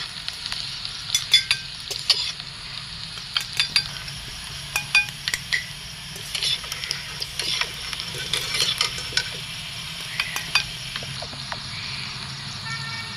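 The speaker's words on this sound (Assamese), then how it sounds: "আৰু এইখিনি দি মই ভালকৈ ভাজি ল'ম।" Onion, green chillies, crushed garlic and panch phoron fry in oil in a wok, a soft steady sizzle punctuated by frequent sharp clicks and scrapes of a spatula against the pan.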